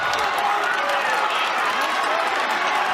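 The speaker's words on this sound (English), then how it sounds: "Nebraska crowd making some noise for Brock Hardy" A Nebraska home crowd at a men's college wrestling dual against Iowa roars in a steady, dense wash of cheering and shouting for a wrestler, loud and continuous throughout.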